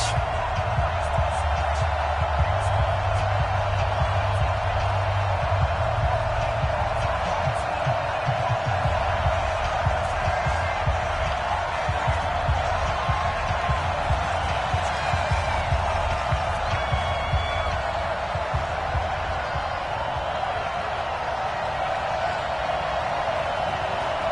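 Stadium crowd in an EA Sports NFL football video game, Dallas Cowboys versus New York Giants, a steady dense roar of fans throughout with a commentator talking over it.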